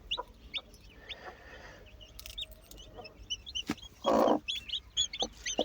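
A hen clucks softly in short bursts while her chicks hatch, with a few sharp peeping calls and rustling close by, in quiet surroundings.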